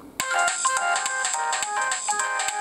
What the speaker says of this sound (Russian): Так, что там еще у нас из мелодии есть? Moonlight.